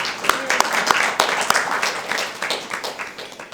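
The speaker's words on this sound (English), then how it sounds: "So a round of applause for everyone." Audience applause at a sculpture preservation event, scattered claps with a few sharp individual hits at first, then a steady moderate patter that fades slightly.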